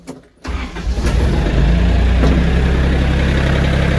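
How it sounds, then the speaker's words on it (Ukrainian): An Iseki TA 227 tractor engine cranks and catches after a brief quiet moment, then settles into a steady, loud idle rumble that continues to the end. "Заводимо трактор"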